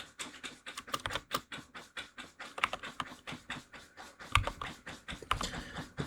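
Slow, uneven keystrokes on a computer keyboard while writing Python code, soft close clicks in irregular bursts with short pauses, no talking.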